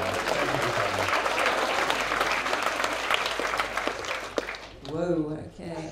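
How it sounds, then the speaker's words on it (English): Audience at a stand-up comedy show breaks into steady applause, a dense wash of clapping for about five seconds that then tapers off as a voice starts talking. "They applauded just his name"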